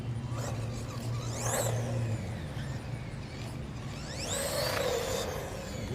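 An HBX 1:16 off-road 4x4 RC truck runs outdoors at top speed, its electric motor whining in two rising, sweeping passes over a constant whirring drone, fairly close.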